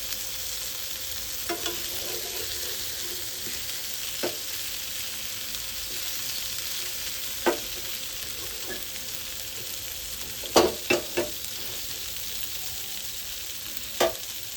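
Fish frying in oil in a pan, a steady high sizzle running throughout with several sharp clacks and scrapes as pieces are flipped, close by and with no talking.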